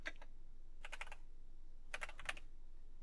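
Fingers type on a computer keyboard, entering text into a GitHub gist: short bursts of soft, quick key clicks separated by pauses, fairly quiet and close, with no voices.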